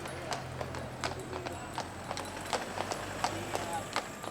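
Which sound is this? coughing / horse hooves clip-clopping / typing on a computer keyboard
horse hooves clip-clopping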